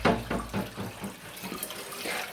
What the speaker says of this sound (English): I can put a little more cold water in, make sure it's got the full 8 cups.